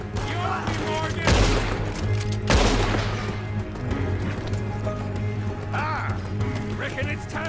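Galloping horse hooves clip-clop amid a chaotic Red Dead Redemption 2 shootout, with bursts of gunfire, loud impacts and voices shouting over the action.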